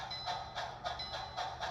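Bachmann HO scale model steam locomotive running on a layout, giving a steady, even chuffing pulse of soft hissing bursts about three per second, close by and moderately quiet with no voices.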